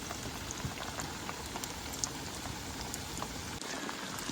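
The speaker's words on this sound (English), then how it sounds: "Still under the table because it's raining." Steady rain falling on a camp shelter by a river, a dense, even patter of drops with occasional louder individual splashes, close and continuous.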